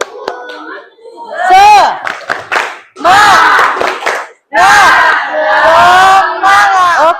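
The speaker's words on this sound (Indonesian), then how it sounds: "tepuk semangat dulu" A classroom of children at a teaching competition for Teachers' Day doing a rhythmic spirit clap, with bursts of loud group clapping and shouted chanting in several phrases, close and energetic.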